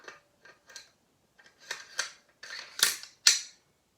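Bolt carrier slid into an AR-15 lower receiver: a string of sharp metallic clicks and scrapes, sparse at first and then louder and closer, ending in a few firm snaps with no voice.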